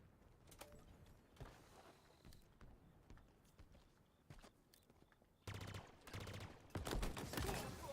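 Rapid machine gun bursts from Halo Infinite multiplayer, quiet at first, then louder sustained automatic fire toward the end, mixed with footsteps and game effects.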